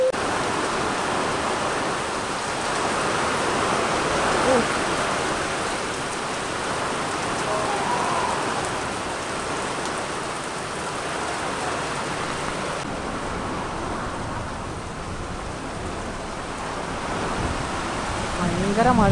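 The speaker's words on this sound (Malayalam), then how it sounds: "ഭയങ്കര മഴയാട്ടോ." Heavy rain with strong wind lashes down during a storm at a house with sheet roofing, a loud, dense, unbroken roar that stays close and even throughout.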